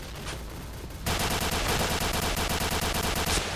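Video game gunfire: a quiet stretch, then a sudden burst of rapid automatic shots, loud and sustained in a fast, even rhythm.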